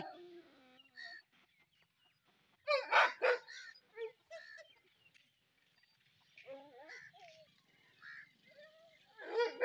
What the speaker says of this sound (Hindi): मोती ने भाई दूसरे ये साथ वाले किनारे पे डॉग्स देख लिए इसने और वाज हैंग्री बहुत गुस्से में है